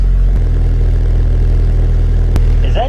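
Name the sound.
Subaru Forester XT idling with Invidia Q300 catback exhaust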